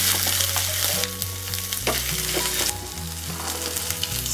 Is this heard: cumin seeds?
yes